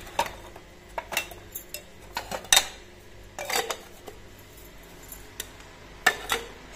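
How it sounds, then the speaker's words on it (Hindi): Dishes and utensils being gathered up for washing in a village home, with irregular clattering clinks of metal pots, plates and cutlery knocking together nearby, separated by brief quiet gaps. "साथ साथ साथ जो है ये बर्तन भी उठा रही हूँ"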